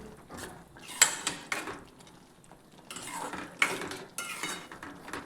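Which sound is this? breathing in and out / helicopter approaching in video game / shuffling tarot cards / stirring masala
stirring masala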